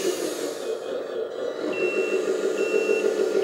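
A LESU model eight-by-eight truck crane's electronic sound system plays steady, evenly spaced reversing beeps, fairly close and clear, over a faint hum.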